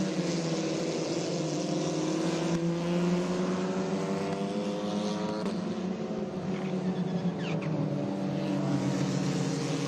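Ligier Junior Formula open-wheel race cars howl continuously around the Thunderbolt circuit at New Jersey Motorsports Park, several engines droning and shifting pitch together at a loud, sustained level with no talking.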